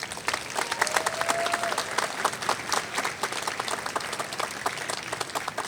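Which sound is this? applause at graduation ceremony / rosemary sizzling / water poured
applause at graduation ceremony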